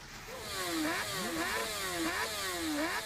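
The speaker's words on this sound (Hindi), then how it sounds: "उसी माया नगरी मुंबई में बाइकर्स गैंग के स्टंट की ये तस्वीरें हैं।" Stunt bikers' motorcycle engines on Mumbai roads rev repeatedly in rising and falling sweeps, loud and near, with steady engine roar between the revs and no talking.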